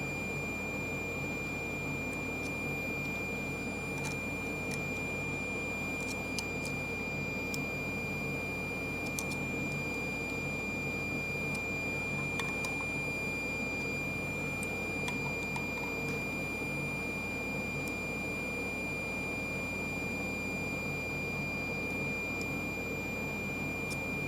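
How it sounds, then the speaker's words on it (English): A meter gives a steady, faint high continuous tone while the ignition points on a rat rod stay closed, ongoing for over twenty seconds with a few faint clicks and no talk. "So points are closed. You should be able to hear it beep."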